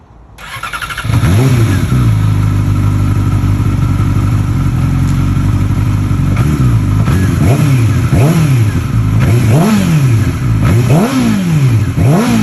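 A Yamaha R6 sport bike with an M4 exhaust starts up and then revs hard again and again, each sharp rise and fall of the engine loud and close and heard on its own.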